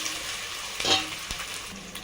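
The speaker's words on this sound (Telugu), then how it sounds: "ఇప్పుడు టమాటా వేస్తున్నా." Two chopped tomatoes frying in a pan for a pulao and vegetable curry, a steady soft sizzle with a brief louder burst of hiss as they hit the hot oil, then a couple of faint clatters.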